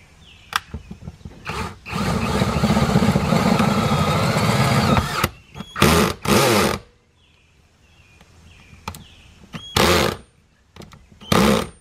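A power tool driving a screw into a homemade cook table in a 6 x 10 cargo trailer, heard as a sustained three-second whir followed by several short, loud bursts with quiet gaps between them.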